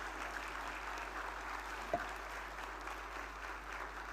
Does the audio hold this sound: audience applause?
yes